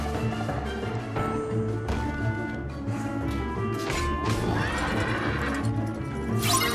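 A horse in the Kingdom Hearts 3 video game neighs and whinnies over rhythmic clip-clopping hooves and background game music, fairly close and loud, with a sharper crash near the end.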